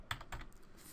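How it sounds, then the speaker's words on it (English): A few quick, close keystrokes click on a computer keyboard while commands are entered in a Command Prompt during a virus scan in Safe Mode, crisp and quiet against a faint room background. "we could just push the up arrow key just to get that back up without typing it"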